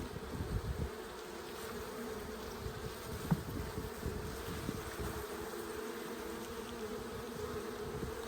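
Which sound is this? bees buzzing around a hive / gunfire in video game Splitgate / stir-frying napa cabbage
bees buzzing around a hive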